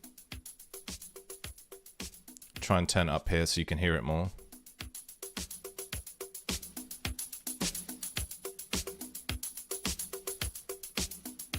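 A drum loop sampled from vinyl with the low end filtered out, leaving thin mid and high drum hits in a steady repeating groove; someone briefly talks over it near the start.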